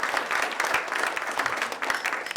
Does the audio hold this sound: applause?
yes